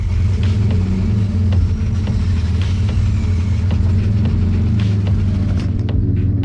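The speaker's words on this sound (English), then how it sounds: "It's trying to start, but it won't fully turn over" A twin-engine Mazda MX-3 struggles to start, giving a steady, close, low engine rumble with scattered irregular clicks and pops throughout.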